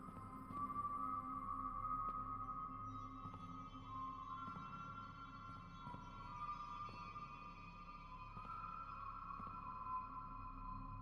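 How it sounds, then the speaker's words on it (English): Whistled tones with a long, spacious reverb tail inside the VR game cyubeVR, clear sustained pitches sliding and repeating at moderate level over a faint room hum. "whistling sounds really cool"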